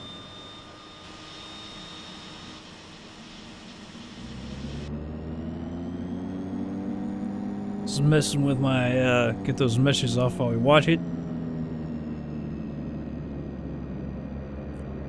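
The left turboprop engine of a DHC-6-300 Twin Otter starts in the FSX flight simulator. A rising whine builds into a steady, loud engine drone, and someone talks over the middle of the spool-up.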